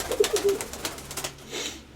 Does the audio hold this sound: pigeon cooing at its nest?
yes